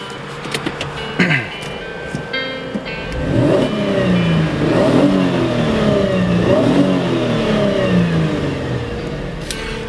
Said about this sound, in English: can rev the engine a bit.